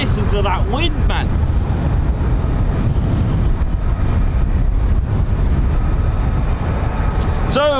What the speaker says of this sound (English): Oh, listen to that wind, man.